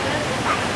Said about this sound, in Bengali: এই সেই বাংলার নায়গ্রা জলপ্রপাত